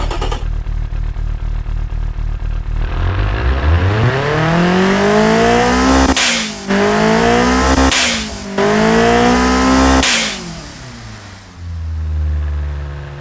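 Simulated Toyota 22R-E four-cylinder with turbo, custom ECU tune and stock exhaust piping and muffler, revving loudly in the Automation car game: repeated climbing and falling engine sweeps with sharp shift-like breaks, no talking.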